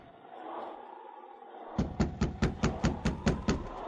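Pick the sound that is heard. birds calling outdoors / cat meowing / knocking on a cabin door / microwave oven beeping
knocking on a cabin door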